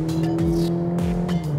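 Cadillac CT4 sedan in sport mode, its engine sound piped through the Bose cabin audio: a loud, steady droning tone with rising and falling sweeps as revs change, heard close inside the car without speech.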